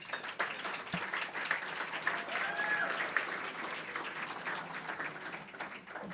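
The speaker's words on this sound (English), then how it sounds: "So let's give a round of applause." Steady applause fills a Hall of Fame induction ceremony, a moderately distant roomful of hands clapping evenly throughout with faint voices and a brief whoop mixed in.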